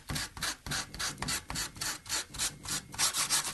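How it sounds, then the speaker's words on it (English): Sandpaper drawn repeatedly across tarp fabric on a hard surface makes rhythmic rasping strokes, about three per second, close and steady, with no talking. "just draw the sandpaper over it until you can kind of look across the top of the surface and see the little fibers sticking out"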